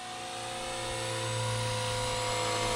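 A steady, high-pitched rotor and motor whine from an older Blade 300 CFX RC helicopter flying in gusty wind, gradually growing louder as it nears, with no talking.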